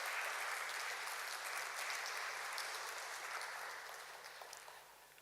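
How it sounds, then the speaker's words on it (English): Sustained audience applause at an industry event, a dense even wash of many hands clapping that fades slowly toward the end. "Can audience give a round of applause?"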